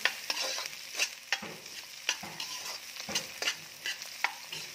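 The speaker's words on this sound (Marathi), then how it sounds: "मिरची छान फ्राय झाली की त्यामध्ये टाकायचा आहे कांदा" Onion and green chilies fry in oil for potato bhaji, a light sizzle overlaid by frequent scraping, clinking stirs at an uneven rhythm.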